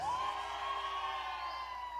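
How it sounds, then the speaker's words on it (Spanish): A large concert crowd in Los Angeles shouts and cheers together on cue, a loud sustained roar of voices with a rising whoop cutting through, heard from within the audience. "regálame un grito chilango a la de tres"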